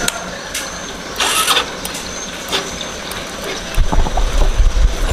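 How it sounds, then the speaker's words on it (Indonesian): A manual-start motorcycle engine is cranked with a few mechanical clicks and whirs, then catches and settles into a low, steady idle near the end. "Oke, motor udah hidup ya."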